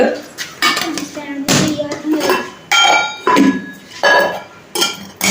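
Metal dishes and utensils clink and clatter as they are set down one after another at a fair's communal kitchen, a series of sharp close knocks with brief pauses between them.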